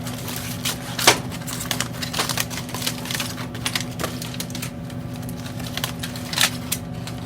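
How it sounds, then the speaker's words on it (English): Baby back ribs wrapped in butcher paper or foil are unwrapped after five hours of cooking, giving scattered crinkling crackles and a few sharper rustles over a steady low hum. "We'll unwrap."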